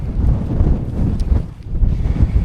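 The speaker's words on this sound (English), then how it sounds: "it's quite breezy up here, and this wind wouldn't have changed." Strong gusting wind on a hilltop buffets the microphone in loud, low rumbling bursts, with no voices.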